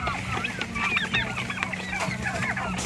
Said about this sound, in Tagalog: Ito naman po yung mga breeder ko ng gansa.